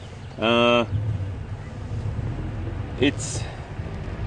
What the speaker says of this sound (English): So this is a petrol engine in here.